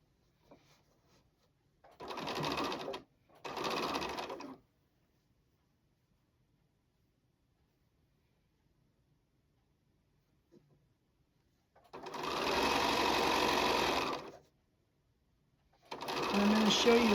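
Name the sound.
sewing machine stitching quilt block pieces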